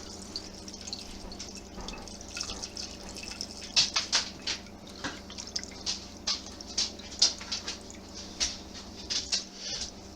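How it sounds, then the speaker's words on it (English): Red bud blossom tea poured through a strainer, dripping and splashing in a quick irregular patter of close, bright drops over a faint steady trickle. "Now we're just going to pour this through, strain everything out, because all we want is the liquid."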